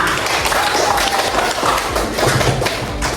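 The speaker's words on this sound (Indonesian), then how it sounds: "tepuk tangan untuk Fahri" A classroom of pupils claps for their classmate Fahri, a brief burst of dense, loud, rapid clapping that runs throughout.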